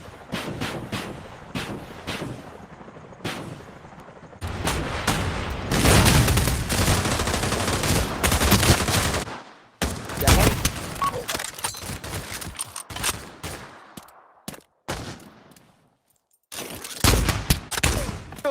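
Bursts of rapid gunfire from the virtual-reality shooter game Pavlov, loud and dense in long stretches with sharp shots between, set against a helicopter scene with wind-like rumble; no speech.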